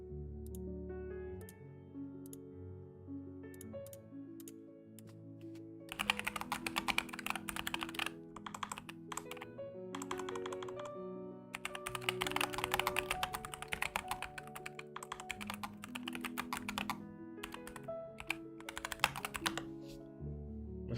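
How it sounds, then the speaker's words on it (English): Loud computer keyboard typing at a desk during a study session, with rapid clattering key bursts and pauses layered over soft background music, close to the microphone and without speech. "My keyboard's kind of loud, my bad."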